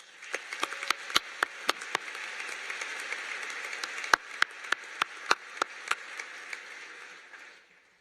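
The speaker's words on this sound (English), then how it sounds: "I think that deserves another round of applause" Audience applause for student musicians at a medical school white coat ceremony: a broad, steady wash of clapping hands with sharp individual claps standing out, sustained for several seconds before tapering off at the end.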